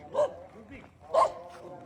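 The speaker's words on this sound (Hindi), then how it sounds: "कोई अनजान बंदा नहीं आ गया होता जैसे, वैसे भौंक रही है।" A female dog barks indoors at someone it doesn't recognise, giving two short, moderately quiet barks about a second apart with a faint whine between them.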